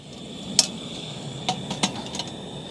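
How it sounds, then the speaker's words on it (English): A metal pan is set down on a Serotonin Firefly multi-function gas mini stove, giving a few light clinks and taps over the steady hiss of the burning gas flame. "So then you put your pan on."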